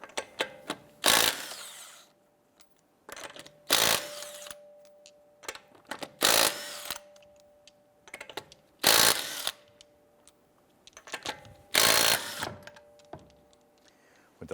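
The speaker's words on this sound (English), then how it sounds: "Using our 19mm socket, I'm going to go ahead and remove our lug nuts." Lug nuts on a 2012-2017 Toyota Camry wheel come off with a 19mm socket on a power tool. Five loud, short bursts of whirring and rattling arrive at roughly even intervals, separated by quiet stretches with a faint steady hum.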